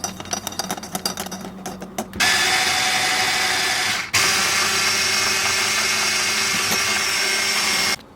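Electric hand mixer beating cake batter of flour, vanilla, baking powder and cocoa, a loud steady motor whir that starts after a few seconds of clatter, briefly cuts out near the middle, then resumes and runs continuously before stopping.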